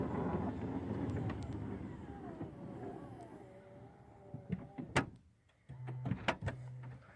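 A 2018 Toyota Sienna LE power sliding door closes by button from inside the cabin: a quiet motor whir followed by a sharp latch thunk near the five-second mark, then a short whining tone and clicks as it seats.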